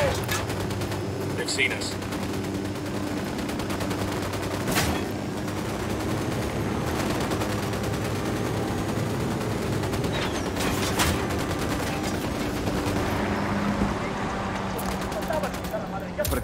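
Sustained gunfire in a Ghost Recon Wildlands firefight, rapid shots and sharp cracks running continuously over a rumbling background, with voices talking over the shooting.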